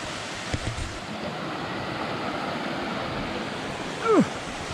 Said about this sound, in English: Wilson Creek at 6:14.